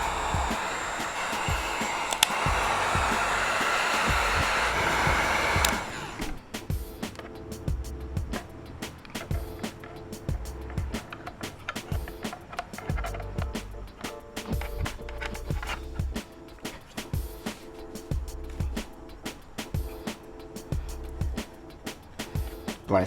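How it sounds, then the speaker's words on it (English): A heat gun warms a carbon fibre swingarm cover for a V4 motorcycle. Its steady, close blowing roar runs for about six seconds, then cuts out, leaving scattered taps and handling noises. "Now we're gonna heat this bad boy up a little bit."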